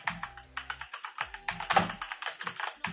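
Typing on a Cosmic Byte Black Eye mechanical keyboard with brown switches produces a rapid, steady run of close, crisp key clacks, with no voices.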